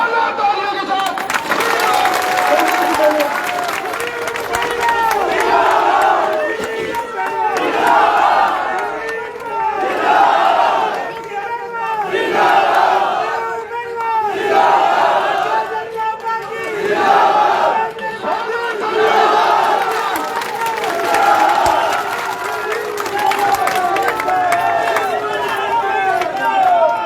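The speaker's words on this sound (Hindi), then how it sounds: "जोरदार तालियों के साथ" A large crowd at a Hindi-language BJP election rally in Rajasthan roars with rhythmic chanting, clapping and cheering that continues loudly and without a break, the voices surging in repeated waves.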